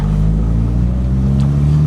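Mk1 Volkswagen Golf Cabriolet rolls over a speed bump, its engine giving a steady, loud low rumble from inside the cabin with a faint thump partway through.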